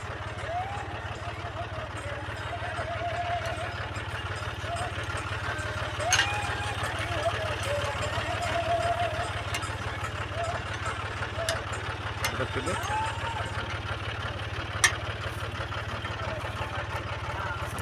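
A tractor engine drones steadily while ploughing a field in Chandanakera village, Kalaburagi district. The hum is constant and moderately distant, with a few sharp clicks and knocks over it.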